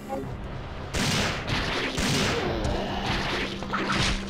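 Heavy Magnum revolver shots ring out in Resident Evil 3: Nemesis, several loud blasts spaced roughly half a second to a second apart, each with a sharp crack and a brief ringing tail.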